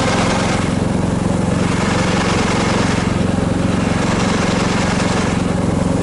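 Tofalar 600 motor-tow, built on a Taiga snowmobile, running in low gear: a steady, loud, close engine drone with a throbbing low rumble and a faint rhythmic surge, continuous throughout with no talk.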